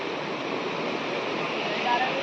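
River water rushes steadily at a bathing spot by a Konkan village river, a dense, continuous roar close by that fills the whole stretch without a break.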